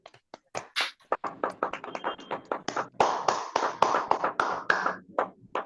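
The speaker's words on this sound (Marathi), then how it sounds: "चला टाळ्या वाजवूया" An audience at a community women's centre presentation claps in scattered, irregular bursts that grow denser and louder toward the end, heard close in a quiet room.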